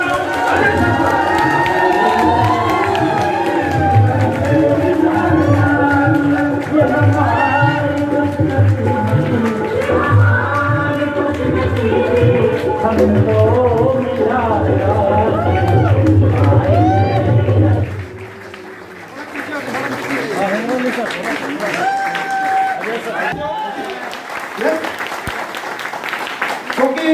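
A standing audience at a business seminar honouring a guru claps and cheers loudly for about eighteen seconds, then the applause thins and fades into scattered crowd noise.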